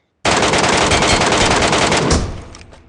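Sustained automatic gunfire from a Metro Royale battle, one loud continuous burst lasting about two seconds before trailing off into echo, close and with no voices over it.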